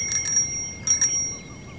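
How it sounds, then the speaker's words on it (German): The bell on a 50-year-old folding bicycle rings twice, each a quick double ding with a clear metallic ring, close and crisp over faint outdoor background. "Tadellos in Schuss, Klingel funktioniert."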